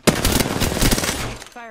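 Rapid automatic gunfire in the Apex Legends video game rattles in one dense, close burst lasting over a second, then cuts off as a voice starts to speak.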